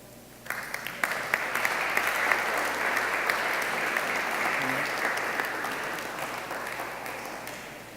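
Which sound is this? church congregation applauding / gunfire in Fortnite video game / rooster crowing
church congregation applauding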